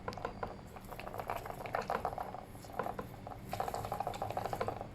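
Water gurgles and sputters out of the vent on an Intex Krystal Clear filter pump with air trapped in the system, a steady bubbling, spitting stream that is fairly faint and close.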